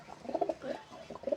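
Domestic pigeons in a loft cooing in soft, close bursts, three quick rounds of throaty warbling notes over a quiet background.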